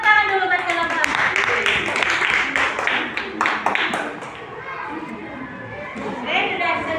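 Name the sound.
classroom applause for a student group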